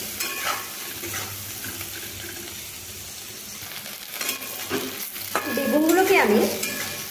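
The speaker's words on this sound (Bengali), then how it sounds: "নুন ও হলুদ গুঁড়ো ভালোভাবে মিশিয়ে আমি বেগুনগুলোকে ভেজে নেব।" Eggplant pieces coated with salt and turmeric fry in oil in a kadai, giving a low, steady sizzle with occasional stirring scrapes. The sound swells louder near the end, where a brief higher-pitched tone rises over the frying.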